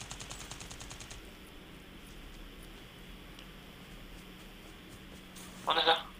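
Gunfire in the mobile battle royale game Call of Duty Mobile: quick rapid shots ring out over the first second, then a louder, closer burst of fire near the end above steady game ambience.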